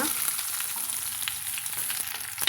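Sliced small onions fry in hot oil with mustard seeds, giving a steady, close sizzle that carries on without a break. There is no talking.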